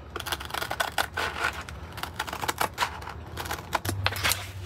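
Rapid, crisp snipping and clicking repeats irregularly at close range, like scissors cutting through stiff material, with no voices.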